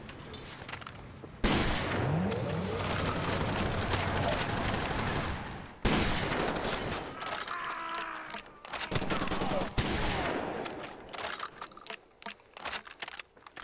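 Double-barrel DLC shotgun in the Far Cry 2 video game, firing several loud, sharp blasts at irregular intervals, each followed by a short decaying tail amid background gunfire.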